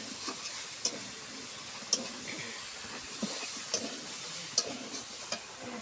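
Mutton and potatoes sautéing in a pan, with a soft steady sizzle broken by several sharp clinks of a utensil stirring against the metal at irregular intervals.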